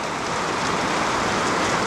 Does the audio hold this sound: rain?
yes